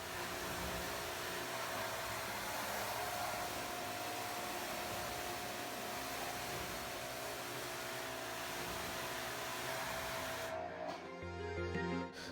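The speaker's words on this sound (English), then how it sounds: "blasting the heck out of it with the pressure washer" A pressure washer blasts water over a car during detailing, a loud steady hissing roar that runs almost unbroken for about ten seconds before cutting off abruptly near the end.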